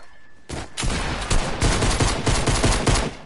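Rapid bursts of shotgun fire in Fortnite, a quick succession of loud close blasts after a quiet opening half-second, with no talk.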